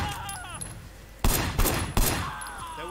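Three loud gunshot blasts about a third of a second apart, fired from a car's passenger window in the Sleeping Dogs video game, standing out over quieter background game sounds.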